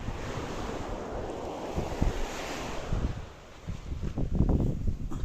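Surf breaking on a black sand beach in Tenerife, wind buffeting the microphone over a continuous wash of waves that swells and briefly dips.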